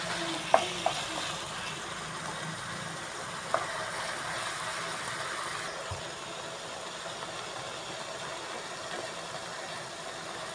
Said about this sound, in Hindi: चिकन न्हू मातशें भाजून घेलें